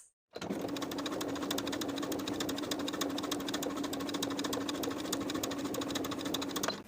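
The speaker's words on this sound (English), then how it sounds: "we'll edge stitch along that bottom inner fold from one side to the other with about 1/8 inch seam allowance" A sewing machine edge stitches along the folded bottom edge of a pocket on elastic-waist shorts, making one continuous, even mechanical hum with no pauses.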